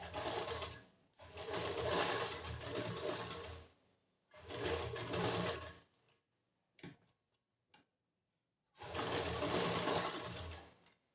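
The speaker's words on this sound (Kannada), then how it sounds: "ಆ ಕಾಲು ಇಂಚ್ ಬಟ್ಟೆಗೆ ಸ್ಟಿಚ್ ಮಾಡಿಬಿಡ್ಬೇಕು ಈ ಥರ" A sewing machine stitching blouse fabric runs in three bursts of rapid, even ticking, close and fairly quiet, separated by pauses with a few faint clicks.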